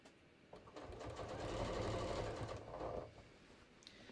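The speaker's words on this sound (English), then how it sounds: "And I'm going to start top stitching." Sewing machine top stitching jeans, a steady mechanical whirr that runs for about two and a half seconds, fairly quiet and alone.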